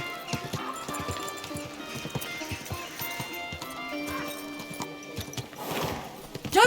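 Horse hooves clip-clop at a slow walk on a road in the medieval video game Kingdom Come Deliverance 2, a steady near rhythm of clops under a light ambient game soundscape.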